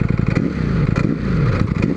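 Motorcycle engine revving hard with a deep, throaty exhaust note, loud and close, rising and falling through a couple of quick blips over about two seconds, no talking.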